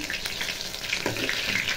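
Mustard flower fritters fry in a pan of oil with a steady, close crackling sizzle and occasional stirring, no voices.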